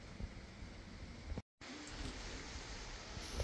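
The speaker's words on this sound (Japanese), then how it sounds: "雨が降っています。 本降りといったとこですね。" Steady heavy rain falls in a broad even hiss, with no voices over it.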